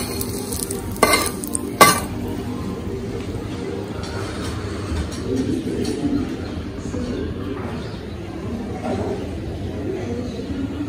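Food frying and stirred in hot oil, a busy sizzle with a couple of loud utensil clanks near the start and then a long, steady frying hiss under faint background noise.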